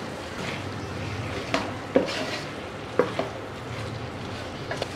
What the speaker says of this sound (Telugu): 5 నిమిషాల తర్వాత ఒకసారి బాగా కలుపుకొని